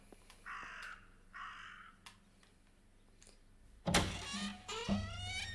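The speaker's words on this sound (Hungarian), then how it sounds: "That raven is making a big fuss." A raven in the game Martha is Dead caws twice in drawn-out calls over a quiet ambient hum, then a louder, harsher burst of rasping caws follows.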